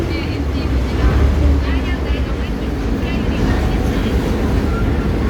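A boat crossing the Chao Phraya river in Thailand gives a steady, close engine rumble with wind noise, while people talk over it throughout.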